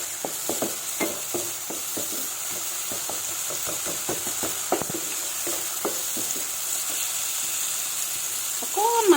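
Chili powder and turmeric sizzle softly in a pan after a splash of water, with a faint steady hiss and a series of light scraping taps from stirring.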